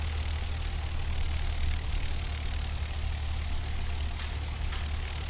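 A light aircraft taxis on the ground in the X-Plane 10 flight simulator, its engine holding a steady, low droning hum without pause or change, fairly loud and alone.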